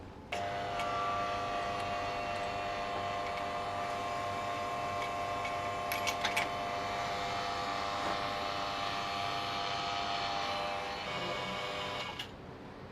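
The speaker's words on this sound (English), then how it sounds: "Hose has been installed, so let's pull vacuum." A steady mechanical hum with a constant whining tone drones for several seconds from a vacuum pump evacuating a car AC system through a hose, with a brief clatter midway.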